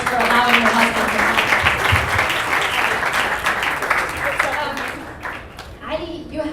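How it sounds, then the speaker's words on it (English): An audience at a talk event breaks into sustained applause, dense broadband clapping filling the space for several seconds before tapering slightly near the end. "So we need to give Arwa a round of applause for allowing her husband to"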